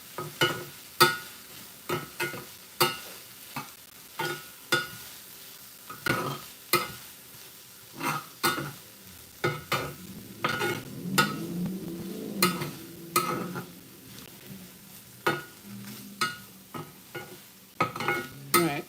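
BBQ shrimp sizzle in a pan while a utensil stirs them, giving repeated sharp scrapes and clinks in an irregular rhythm over a soft frying hiss, close and unaccompanied by talk.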